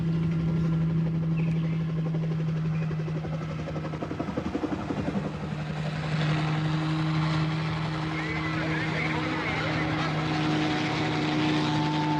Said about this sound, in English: he done got helicopters